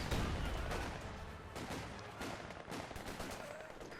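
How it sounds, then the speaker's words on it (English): MG34 machine gun firing inside a small shed during a Company of Heroes 2 battle, a steady dense rattle of gunfire layered with other battlefield shots and explosions throughout, loud and continuous. "MG34 still fighting from within the tiny shed"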